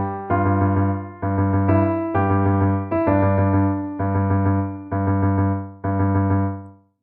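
Extended orchestral theme played as a series of sustained rich chords in a steady repeating pulse, each swelling and fading before the next, with no voices.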